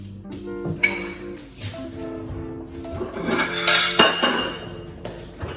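Plates and dishes clink and knock in a home kitchen while bagels are prepared, sparse light taps then a brighter cluster of ringing ceramic hits, with quiet background sound and no speech.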